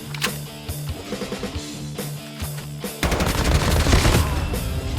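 Rapid automatic gunfire in Call of Duty Mobile, short rattling bursts that give way to a loud, dense sustained volley in the second half.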